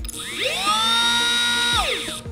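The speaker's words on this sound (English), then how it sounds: "Speed setting number three." A LEFEET P1 sea scooter motor spins up to its third speed setting, a close, loud, high-pitched electric whine that ramps up, holds steady for over a second, then winds down, heard alone.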